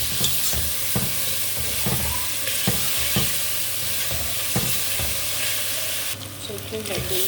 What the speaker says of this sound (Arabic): هنبدا نحط اللحمه المفرومه بتاعتنا، بسم الله، ونقلبها لغايه ما اللون الاحمر ده